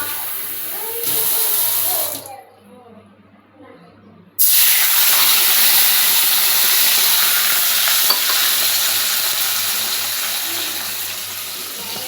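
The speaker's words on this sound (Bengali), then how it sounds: "তো আমি আগে কড়াইয়ে জল দেব, মশলাটা দেব না, আগে জল দেব" Water poured into a hot, oil-free wok while cooking paneer curry hits the metal with a loud sizzle, pauses, then bursts back into sustained hissing and bubbling that slowly fades.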